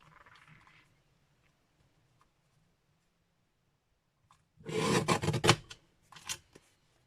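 A desktop paper trimmer slices through cardstock in one short rasping pass of about a second, followed by a brief second scrape, close and fairly quiet against a near-silent room.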